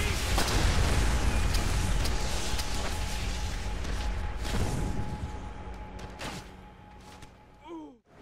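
Demolition charges going off in Call of Duty: World at War, a series of booming blasts and rumbling debris that gradually fade, ending with a brief rising whistle-like tone and no talk.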